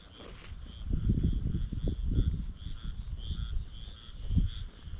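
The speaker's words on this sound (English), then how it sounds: "let's hear the frogs for a minute" Frogs croak in a dense night chorus, low pulsing calls layered over a steady high insect trill, fairly close and continuous.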